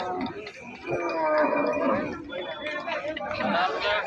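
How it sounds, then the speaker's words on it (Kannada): Buffalo at a busy cattle market in Nulvi, lowing close by amid steady crowd chatter and people talking throughout. "ಫ್ರೆಂಡ್ಸ್ ಇಲ್ಲೊಂದು ಎಮ್ಮೆ ಇದೆ ನೋಡಿರಿ"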